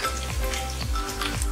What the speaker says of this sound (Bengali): একই সঙ্গে দিয়ে দিচ্ছি কাঁচা লঙ্কা।